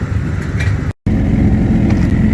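An unrestricted 2020 Suzuki GSX-R 1000 at a drag strip gives a loud, sustained, dense engine roar that cuts out abruptly for a split second and then comes straight back at full strength.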